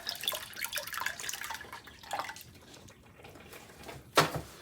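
Tap water running into a pot for cooking quinoa, a close uneven splashing stream that briefly eases off before a sharper gush near the end.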